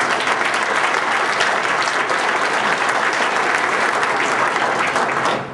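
A hall of fame induction ceremony audience for Greco-Roman wrestling breaks into loud, sustained applause, a dense even wash of clapping that holds steady for about five seconds before easing slightly at the end, with no talk over it.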